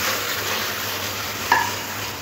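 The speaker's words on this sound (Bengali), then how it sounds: "রেখে পটলটা ভালো করে মশলার সাথে কষে নেব" Fried pointed gourd pieces are stirred into a spice paste in a pan over medium-low heat, giving a continuous soft sizzle with a single clink of the spoon partway through.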